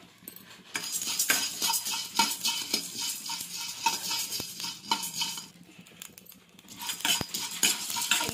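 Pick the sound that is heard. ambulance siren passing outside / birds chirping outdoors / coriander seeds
coriander seeds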